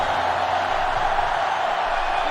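A stadium crowd roars steadily in the video game NCAA Football 09 as the defense urges fans to their feet late in the game, a constant loud wash of crowd noise.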